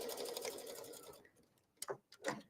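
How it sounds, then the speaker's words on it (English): A sewing machine running a zigzag stitch to attach ribbon to fabric. A steady rapid whir comes first, then it stops, followed by a couple of short mechanical clicks and thumps nearby. "I'm literally using the zigzag stitch and literally adding the ribbon on."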